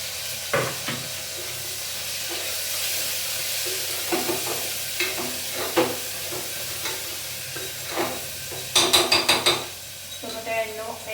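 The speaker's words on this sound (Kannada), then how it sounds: "ಸೊ ಈಗ ಟೊಮೊಟೊ ಹಣ್ಣನ್ನು ಹಾಕೋಣ." Tomatoes hiss and sizzle in a pan while cooking for a vegetable pallav, with a spoon scraping and clinking against the metal in irregular bursts. The stirring grows busier near the end, and a faint murmur sits in the background.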